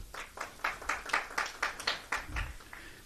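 Brief applause at a COSAFA Under-17 football press conference, about a dozen distinct claps in an irregular rhythm, fairly faint and sparse, as if from a small scattered group.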